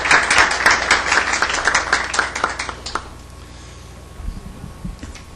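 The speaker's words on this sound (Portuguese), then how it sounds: "a quem eu peço uma salva de palmas." An audience at a public hearing gives a round of applause for a guest, loud and close at first with crisp individual claps, thinning out after about three seconds into a few scattered claps and room murmur.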